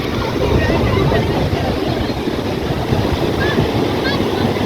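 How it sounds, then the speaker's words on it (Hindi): Sea waves breaking steadily along the seaside in Karachi, with a loud, continuous wash of surf and wind buffeting the microphone throughout, and no distinct pauses between breakers. "आज हम यहाँ समंदर पर आए हैं, सी साइड पर"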